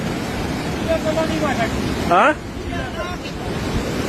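Loud, steady rushing river water roars throughout, with wind buffeting the microphone and a brief voice calling out over it.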